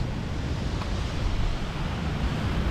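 Waves breaking on a beach at a February wild camp, a low steady wash of surf with wind rumbling across the microphone, no voices.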